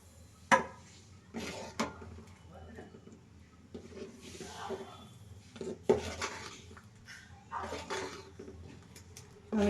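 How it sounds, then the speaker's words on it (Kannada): Semolina (rava) stirred in a pan while making uppittu, with a spoon scraping and clinking against the metal in irregular bursts, close by, and a voice talking faintly in places. "ಸ್ವಲ್ಪ ಸ್ವಲ್ಪನೇ ಹಾಕ್ಕೊಂಡು ಈ ಥರ ತಿರುಗಿಸ್ತಾ ಇರಬೇಕು"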